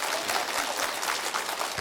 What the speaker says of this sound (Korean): 힘찬 박수로 좀 환영해 주십시오